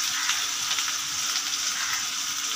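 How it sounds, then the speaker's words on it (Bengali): An onion, garlic and chilli paste with salt sizzles in hot oil, making a steady, close hiss of frying that carries on without a break. "পেঁয়াজ, রসুন, লঙ্কার পেস্টটা ছিল, সেটা কিন্তু নুনের সমেত এই তেলের মধ্যে দিয়ে দিয়েছে"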